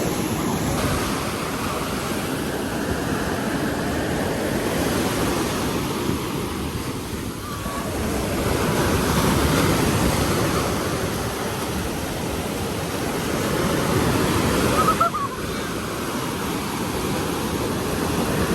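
Ocean waves on a beach making a loud, continuous wash of surf that swells and fades over several long cycles, with wind noise and no talking.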